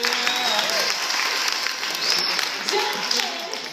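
An audience claps steadily through a church skit, a dense, even wash of applause with voices faintly heard over it.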